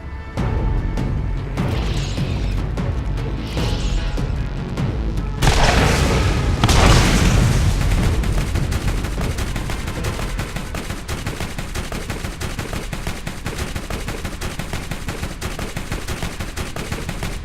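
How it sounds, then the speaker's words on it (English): Rockets booming and mounted machine guns firing in the Borderlands game, with a couple of early heavy blasts, a big explosion burst, then sustained dense rapid gunfire, loud and continuous. "Weak rockets and inaccurate machine gun."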